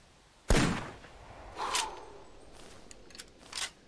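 A hunting rifle gunshot in the video game The Hunter Classic: one sharp loud crack followed by a decaying tail, then quieter rustles and clicks afterwards.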